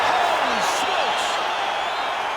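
Arena crowd in the UFC 5 fighting video game roaring and cheering steadily after a fight-ending shot, a continuous wash of noise with a couple of brief louder swells, no talk over it.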